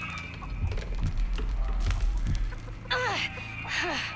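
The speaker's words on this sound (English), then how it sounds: "Oh, the chicken." A video game chicken clucks in a few short bursts, mixed with game ambience and light background noise.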